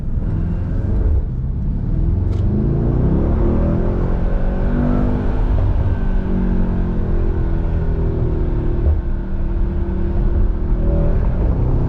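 A Mercedes-AMG GT 63 S 4-door coupe roars steadily while driving, a loud continuous engine drone with shifting pitch heard from inside the cabin for the whole stretch, no talk.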